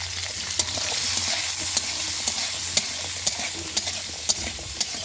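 Potatoes with salt and turmeric are stirred in a frying pan for a curry, giving a steady sizzle broken by about ten regular scraping clicks of a spoon against the metal, close and clear.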